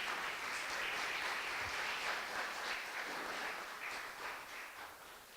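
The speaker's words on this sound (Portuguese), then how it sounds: "Vamos aplaudir a palavra de Deus." Applause from a church congregation during a Easter-season praise night, a steady wash of many hands clapping that holds for several seconds and slowly fades toward the end, with no talk over it.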